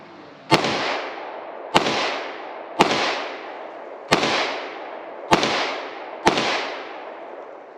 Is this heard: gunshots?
yes